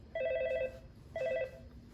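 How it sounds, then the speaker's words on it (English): A video door intercom station rings in two short electronic trilling bursts separated by a brief pause, clear and close with a quiet room behind. "So if you're at the door station, you just hit this button. It'll start ringing."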